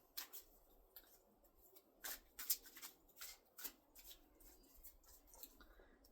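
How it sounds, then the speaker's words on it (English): Tarot cards are shuffled in a quiet room, giving soft scattered riffles and sharp flicking bursts at uneven intervals, faint and close, with no talking. "Let's give it a little shuffle."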